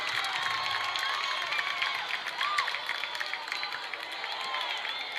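A home crowd at a high school boys basketball game in a gym lets out a mocking cheer, a mix of shouts, whoops and scattered voices rising over steady crowd murmur at moderate distance.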